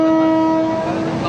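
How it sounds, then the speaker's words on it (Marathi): A train at Belapur station gives off a loud, steady sustained tone over a continuous rail rumble for a little over a second, close by and with no voices. "आता आम्ही ट्रेन आलोय बेलापूर लागले"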